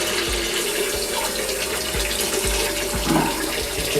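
Hot water pours from a tap into a plugged sink in a steady, close, hissing rush, with faint low knocks underneath.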